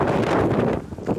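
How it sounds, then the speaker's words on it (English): Loud wind buffets the microphone in low rumbling gusts, steady at first and then dropping and swelling briefly. "It's pretty windy."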